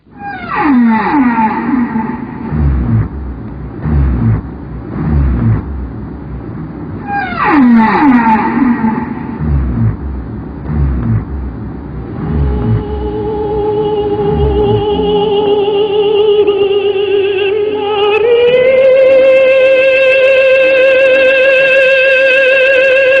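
Humpback whales sing a long underwater song of low moans, rising wails and sweeping tonal calls, loud and close, ending in sustained higher-pitched tones.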